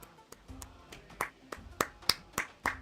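A short burst of clapping sound effect for a birthday shout-out on a live stream, with about ten crisp claps in an uneven rhythm, near and moderately loud, with no talking over it.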